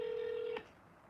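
A single steady telephone tone sounds for about half a second as a call is placed from an app, then cuts off to quiet line hiss, faint and with no talk.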